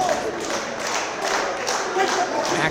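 A crowd at an independent wrestling show claps and cheers in rhythmic bursts, moderately loud, under a commentator talking.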